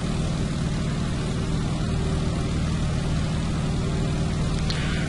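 Stearman biplane engine in a Microsoft Flight game, a loud, steady propeller drone with a deep throbbing rumble, heard continuously during level flight with no voices.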